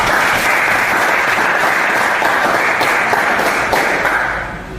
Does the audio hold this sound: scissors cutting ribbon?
no